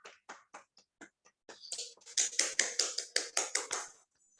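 Audience applause over an online video call during a speech contest: a handful of separate claps at first, then a denser run of sharp, close claps from a few unmuted microphones that stops abruptly.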